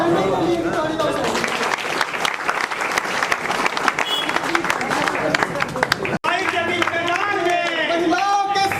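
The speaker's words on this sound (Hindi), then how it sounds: "एक बार माताओं बहनों को लिए तालियां से।" Rally crowd in a village gathering breaks into loud, dense applause honouring the women present, clapping continuously and close for several seconds with a brief dropout near the end, with some background voices mixed in.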